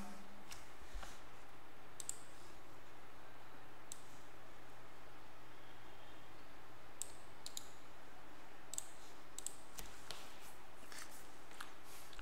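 Keyboard typing a command into an Ubuntu 14.04 terminal: sparse, faint key clicks in small bursts, spread over a quiet, steady background hiss with no voices.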